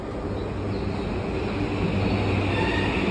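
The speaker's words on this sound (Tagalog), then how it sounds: "Ayan ang tren." A subway train arriving at Otemachi station in Tokyo: loud continuous rumble of wheels on rails with squealing metallic tones, heard close on the platform without any talking.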